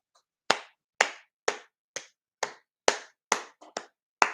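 Slow, steady clapping by a single pair of hands: about nine sharp, separate claps spaced roughly half a second apart, close and clear against silence.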